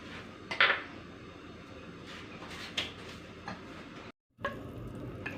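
Cardamom seeds dropped into hot oil in a pan: a soft, steady sizzle with metal spoon clinks and pan knocks, close but quiet, and a brief gap near the end.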